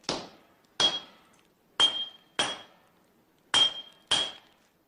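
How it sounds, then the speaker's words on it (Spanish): Six sharp, ringing hammer blows on hot steel fragments at a forge during katana making, struck in an uneven rhythm with brief metallic rings decaying after each strike, close and loud with no voices. "Bajo la atenta y experta mirada de Ghassan, el calor de la fragua y el constante martilleo aplastan los fragmentos"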